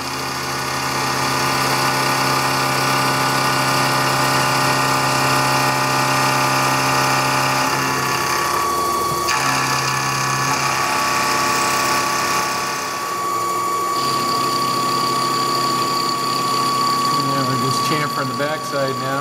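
Machining of aerodynamic bearing parts, with a machine grinding, chamfering and deburring the edges, runs as a steady, loud mechanical hum and whine for the whole stretch, with a brief dip in intensity partway through.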